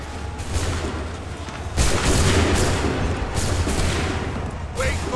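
Musket volley in Assassin's Creed III: a dense, rolling crackle of gunfire that swells into a louder burst partway through and sustains, with shouted commands mixed in.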